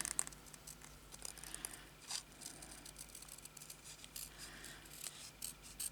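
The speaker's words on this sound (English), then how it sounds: "You move the piece of paper that you're cutting out, not the scissors, okay?" Repeated snipping and rustling of scissors cutting through paper, quiet and close, in irregular short strokes with soft crinkling between.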